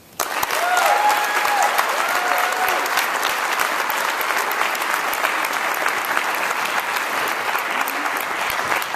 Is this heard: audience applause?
yes